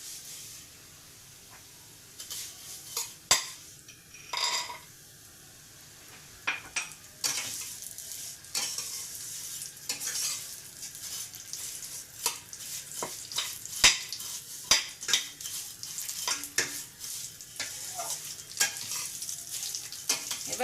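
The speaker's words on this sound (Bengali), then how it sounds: "সিমুইটা ভালো করে লাল লাল করে ভেজে নেব।" Vermicelli fries to a reddish brown with cashews and raisins in a pan, a soft continuous sizzle under repeated scraping and clinking strokes of a spoon stirring against the metal.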